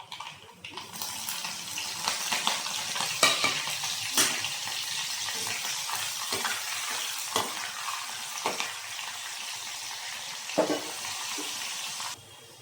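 Chopped green chilies sizzle and crackle in hot oil in a pan, with stirring scrapes running through a steady, close frying hiss and no voices.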